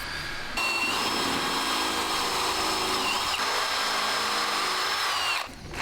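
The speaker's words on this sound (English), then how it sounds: "Just pre-drilling and countersinking." A power drill runs continuously and loudly, pre-drilling and countersinking wood, its whine shifting slightly in pitch as it bites in, then winds down at the end.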